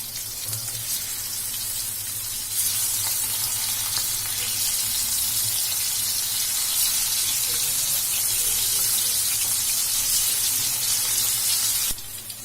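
Crispy restaurant-style chicken 65 pieces deep frying in oil, a loud continuous bubbling hiss with no pauses, heard up close with no voices.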